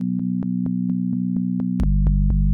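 A synth bass plays a steady run of short plucked notes over a sustained low tone; near the end a deep sine sub-bass swells in underneath.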